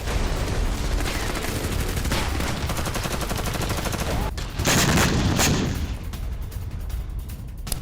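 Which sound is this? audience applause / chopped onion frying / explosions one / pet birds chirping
explosions one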